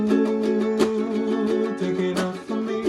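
A ukulele is strummed in a steady rhythmic pattern, bright chords ringing close with quick muted hits between strokes, no voice over it.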